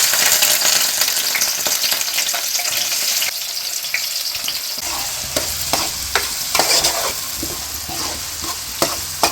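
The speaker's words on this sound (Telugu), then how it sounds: "ఆయిల్ వేడైపోయింది ఉల్లిపాయలు వేసేసుకున్నాం" Onions fry in hot oil with a loud, steady close-up sizzle, broken by repeated stirring scrapes and clinks of a spoon in the pan, with no talking.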